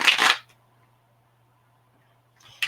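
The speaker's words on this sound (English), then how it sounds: "let's get one more shuffle" Tarot cards are shuffled in two short, crisp riffling bursts, one at the start and one at the end, with near silence and a faint hum between them.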